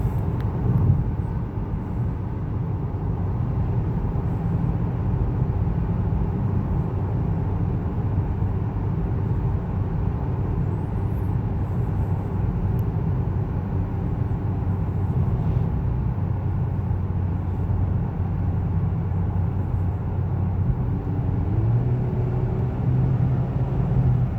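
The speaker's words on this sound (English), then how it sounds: "immediately you can tell this car has more oomph when you put it in sport mode" A 2021 Honda Accord Sport Special Edition in sport mode produces a steady, loud low engine and road rumble from inside the cabin, holding constant with no talk heard.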